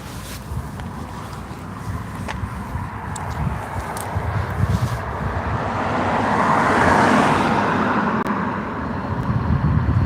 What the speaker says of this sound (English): even with the cars going past, it's still quite calming, serene.